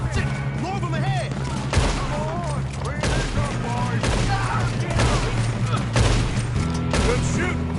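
Gunfire in Red Dead Redemption 2, a constant stream of shots and booms from a firefight with voices talking over the battle throughout.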